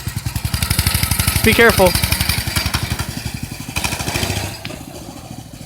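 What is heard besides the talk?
mini bike engine with gummed-up carburetor running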